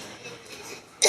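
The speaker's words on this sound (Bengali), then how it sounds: "বাবা কি কাশি হচ্ছে" A single short cough bursts out at the very end after a quiet, hissy pause, close and fairly loud; the person coughing has been unwell for weeks.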